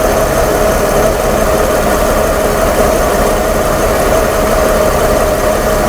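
A 1997 Mercedes-Benz E320 engine running steadily after a misfire fault, a loud, close, continuous idle hum with a constant rumble and no pauses.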